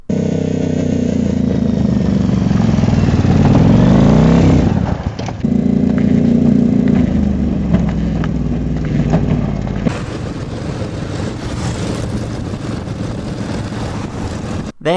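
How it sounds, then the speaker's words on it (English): Motorcycle engine pulling a chariot, loud and close, revving up and down with a brief dip before steady throttle and a shift in tone near the end. "a motorcycle chariot, which is basically a regular chariot, except the horse is replaced with a motorcycle"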